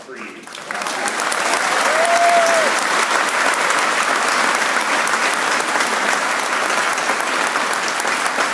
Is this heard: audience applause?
yes